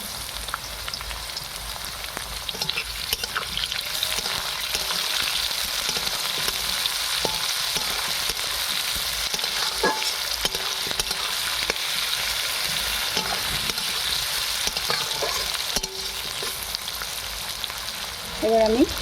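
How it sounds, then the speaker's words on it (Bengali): Chopped onion and potatoes fry in a pan with a continuous close sizzle, scattered scrapes and clinks of stirring throughout, and a slight rise in noise at the very end. "আমি এবারে কেটে রাখা পেঁয়াজটা দিয়ে দিচ্ছি।"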